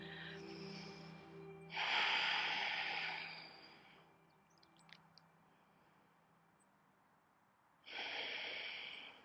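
Two long, steady breaths, one inhale and one exhale, come during a gentle yoga backbend. Each is a soft, airy rush that swells and fades, separated by a quiet pause with a few faint clicks.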